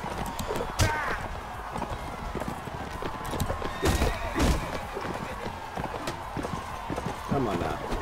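Horse hooves clip-clopping at a gallop in the Mount and Blade Warband video game, a steady rhythmic patter with occasional heavier thuds, heard under someone talking over the gameplay.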